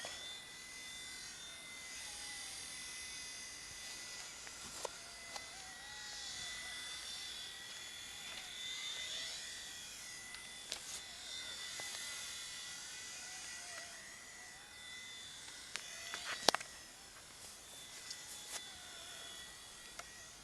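A red5 four-channel remote-controlled helicopter flies nearby with a thin, steady high-pitched rotor whine that rises and falls slightly. A few soft clicks and knocks sit under it, and there is no talk.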